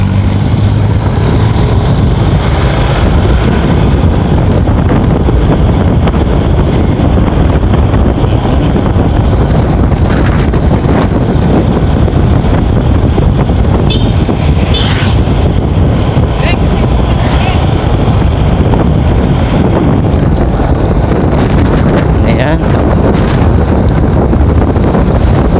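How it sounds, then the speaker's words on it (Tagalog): Strong wind buffets the microphone in a coastal barangay of Mobo, Masbate, making a loud, constant roaring rumble throughout with gusty swells and no clear talk. "masyado malakas yung hangin"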